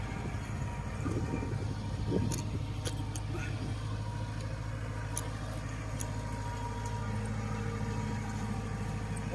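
A small walk-behind tractor engine chugs steadily in the background with a low, throbbing idle, joined by a few brief metallic clicks and rattles.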